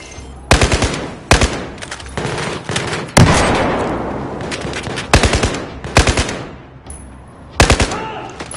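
Battlefield 4 machine gun fire during a battle in Baku, with loud, close bursts of rapid shots separated by short pauses and a roaring battle din between them.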